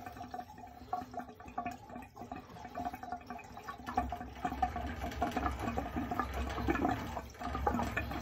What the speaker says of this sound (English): Drain the boiler right now.